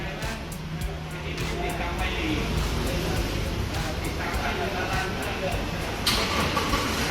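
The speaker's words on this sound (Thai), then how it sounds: "รถทำการสตาร์ทให้แล้วนะครับผม สังเกตได้จากเสียงเครื่องยนต์" A Toyota Innova engine started by remote cranks and catches, then settles into a steady idle, with a few soft clicks along the way.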